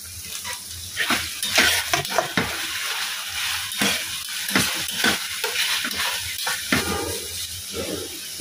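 Minced meat with ginger, garlic and vegetables being stir-fried in a pan: repeated scraping strokes of a spatula over a steady close sizzle, in an irregular rhythm, with no talking.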